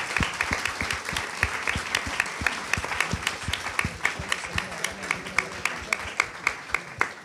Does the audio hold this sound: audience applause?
yes